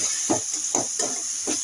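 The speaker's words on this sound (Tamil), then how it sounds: "இஞ்சி பூண்டு பச்சை வாசனை போகிற அளவுக்கு நம்ம நல்லா வதக்கிக்கலாம்." Ginger and garlic being sautéed in a pan for a village-style chicken curry, a steady soft sizzle with a hiss on top and a few rhythmic stirring scrapes.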